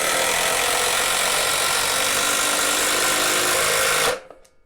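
A Milwaukee impact driver runs flat out in one loud, steady high-pitched whine for about four seconds, then cuts off abruptly and winds down into quiet.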